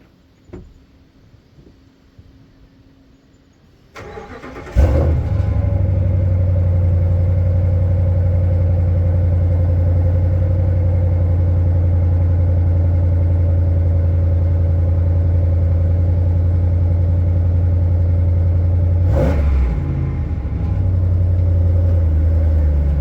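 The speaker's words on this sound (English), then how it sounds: "we're gonna see what the truck sounds like before the catalytic delete" A 2014 Ram truck engine cranks and fires up after a quiet lead-in, then settles into a loud, steady rumbling idle with a brief dip and rev near the end, heard before a catalytic converter delete.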